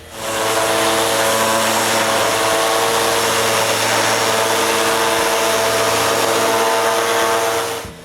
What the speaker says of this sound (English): When the glue is dry, I finish all the sanding.